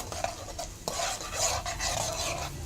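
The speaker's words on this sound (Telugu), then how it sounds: "వేయించండి పప్పులు కొంచెము" Lentils (dal) fry in a pan for a beetroot curry tempering, a close sizzling crackle under brisk metallic stirring and scraping of a spoon against the pan.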